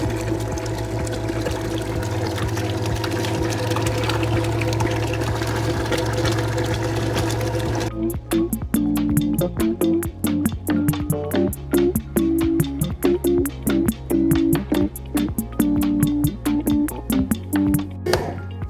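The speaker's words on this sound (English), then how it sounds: "before I turn the pump on" A pump draining an RV holding tank through a hose hums steadily at first, then shifts into a loud, rapid, rhythmic pulsing as the flow surges, close and continuous.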